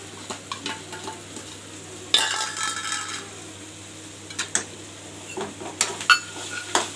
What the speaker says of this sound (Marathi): यानंतर आता आपण भिजवलेले चुरमुरे टाकून घेऊया